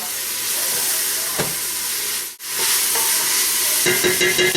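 Salted onions frying in a pot for ghormeh sabzi, a loud, steady sizzle and hiss with occasional scraping stirs and one brief dip in the noise midway, no voices.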